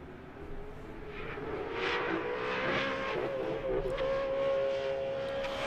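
A Subaru race car circles the Road Atlanta track during a time attack session, its engine note rising as it accelerates past at a distance, steady and moderately loud.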